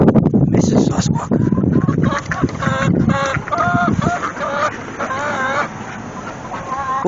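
Chickens clucking loudly up close, with a rooster's calls, repeated squawks and clucks in uneven bursts, alongside a person speaking.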